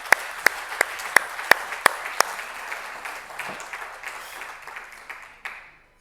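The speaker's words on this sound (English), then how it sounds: "Let's give him a big round of applause first." A conference crowd applauds a Microsoft speaker after his talk, with a few sharp, evenly spaced claps near the microphone over broad, moderate applause that thins and dies away within six seconds.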